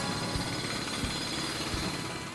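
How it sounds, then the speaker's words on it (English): A loud, continuous pneumatic hammering roar with heavy low thuds pounding through it, steady and close, with no breaks. "The jackhammer is pretty intense."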